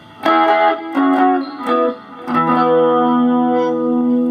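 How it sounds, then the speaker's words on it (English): A Jackson Pro Series Soloist SL2Q electric guitar with its humbucker split to a single coil, a bright, thinner tone, a few picked chords ringing out, then a sustained chord that holds to the end. "So it's the sound of one of these coils."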